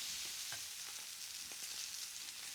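Steak sizzles steadily in a hot pan just after being flipped, a dense continuous fry with scattered soft pops and spatters, close and even throughout, no voices.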